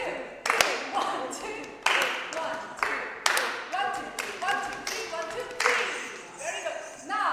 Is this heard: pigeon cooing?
no